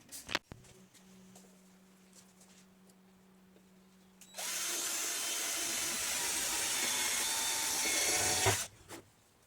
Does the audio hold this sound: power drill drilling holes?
yes